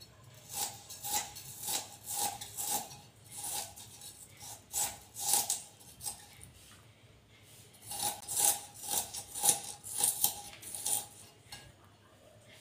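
A knife cuts eggplant and a large onion for a Tamil eggplant stir-fry, giving a steady run of crisp, close slicing strokes in two bursts separated by a short pause, with no talk.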